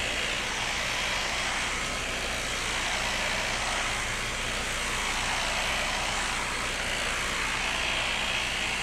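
A sander fitted with a white pad buffs Osmo Top Oil finish into wood, giving a loud, steady whirring hiss that swells and eases slowly every few seconds as it moves over the surface, with no talk.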